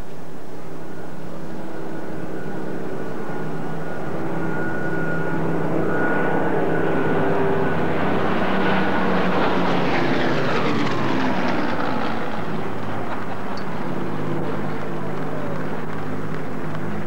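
Fighter aircraft making a flypast to salute the Queen at a Battle of Britain anniversary event, a loud sustained engine roar that swells and sweeps overhead, its pitch falling as the planes pass.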